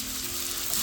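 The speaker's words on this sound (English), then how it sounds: "saute until the raw smell goes and onion gets wilted well" Onion and sprigs of torn curry leaves sauté in a pan for a meatball curry, giving a steady, close hiss of frying that swells slightly at the end.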